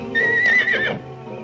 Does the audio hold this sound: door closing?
no